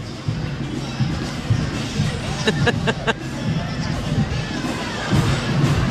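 A big outdoor parade crowd cheers and murmurs in a steady hubbub, with a short burst of sharp rhythmic clapping or percussion midway and people talking nearby.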